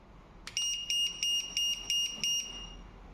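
A series of six short, sharp electronic buzzer beeps in an even rhythm, loud and close, with nothing else around them.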